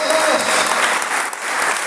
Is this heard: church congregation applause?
yes